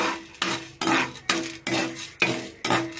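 Fenugreek seeds, coriander seeds and cumin stirred and fried in leftover oil from frying bitter gourd pieces, with about seven bursts of clinking and scraping against the pan at a steady rhythm, close and moderately loud, with no talk.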